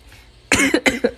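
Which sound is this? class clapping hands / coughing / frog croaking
coughing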